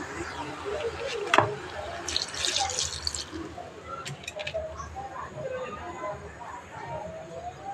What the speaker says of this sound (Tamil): அடுத்து தேவையான அளவு தண்ணி சேர்த்துக்குவோம்